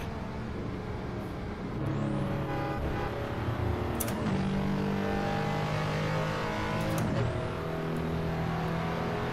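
A Porsche engine revs steadily in Assetto Corsa in VR, droning loud and sustained through upshifts, with tire and wind noise and no one talking.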